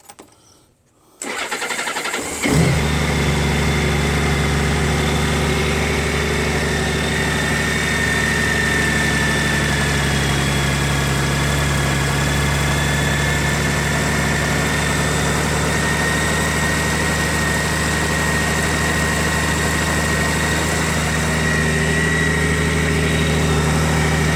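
A Honda Gold Wing motorcycle engine cranks and starts after a quiet moment, then settles into a steady, loud, even idle that runs on alone.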